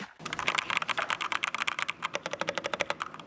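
A clicky mechanical computer keyboard is typed on close up, a rapid, crisp run of sharp key clicks that speeds into a dense, regular patter toward the end, with no talking.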